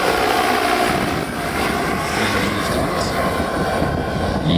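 A scale model of a Los Angeles fire department firefighting and rescue helicopter flies at the Niederrhein Helidays 2010 model air show. Its rotor and engine give a steady, loud, dense whirring drone that continues without a break.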